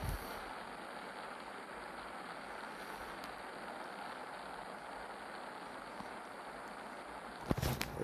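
Rocket engine thrust from the Spaceflight Simulator video game gives a steady, even roar with a hiss layered over it. It holds at a constant level throughout, with a short burst of crackle near the end.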